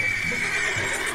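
A horse whinnies in Red Dead Redemption 2, a bright, drawn-out neigh lasting about a second, loud and close with no talk over it.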